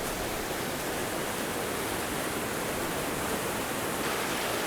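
A raging, swift mountain creek in the Eastern Sierra gives a loud, constant broadband roar of rushing water, close and unbroken, with no voices.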